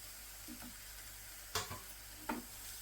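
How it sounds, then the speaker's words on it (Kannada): Coconut laddu mixture with sugar stirred in a pan, giving a few distinct scraping strokes against a steady low hiss, with no talking. "ಸಕ್ಕರೆ ಹಾಕ್ಕೊಂಡು ಸ್ವಲ್ಪ ಕೈ ಬಿಡದೆ ತಳ ಬಿಡುವವರೆಗೂ ಚೆನ್ನಾಗಿ ಆಡಿಸ್ಕೊಬೇಕು"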